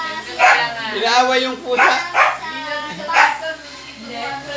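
A dog in a dog fight barks and yelps several times in quick bursts, close and fairly loud, while a person speaks Tagalog over it.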